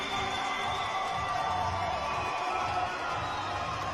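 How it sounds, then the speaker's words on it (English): A crowd cheers from apartment balconies: a steady, distant wash of cheers and whoops echoes between buildings, and faint talk sits underneath. "That's so many people fucking cheering on apartment balconies, man."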